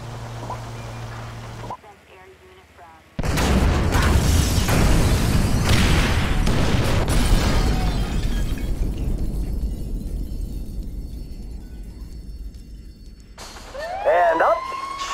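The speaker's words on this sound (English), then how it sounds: "Detonate the incendiaries, Frank." Incendiaries detonate in GTA 5 with a sudden loud blast that swells into a sustained roaring rumble, with a siren wailing near the end.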